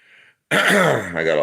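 A short, loud throat clearing up close, a rough gravelly rasp preceded by a faint brief tone.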